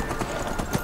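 Horse hooves clip-clopping in a quick rhythm while riding past a camp in the Skyrim video game, a short run of steps under game ambience.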